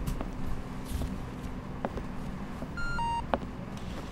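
A phone rings in Resident Evil 4's Separate Ways DLC, sounding as a short electronic tone near the end. Footsteps and game ambience sit underneath it.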